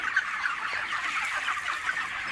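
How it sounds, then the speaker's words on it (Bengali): Broiler chickens about 32 days old at a large poultry farm of around 8,000 birds cluck and murmur together in a constant, busy flock chatter at moderate level. "এই যে দেখেন আমার এই মুরগিগুলার আজকে 32 দিন।"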